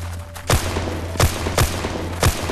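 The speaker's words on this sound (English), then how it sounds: "Open fire. Single shots." Four loud, evenly spaced gunshots from an ArmA 2 battle, each a sharp crack with a short tail, over a steady low hum with no talking.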